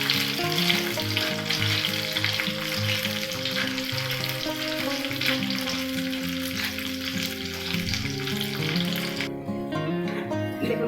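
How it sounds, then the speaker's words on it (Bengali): Ingredients for payesh fry lightly in a pan with a steady, moderate sizzle and faint stirring beneath a continuous bed of background music, which thins out near the end. "হালকা করে ভেজে নেব।"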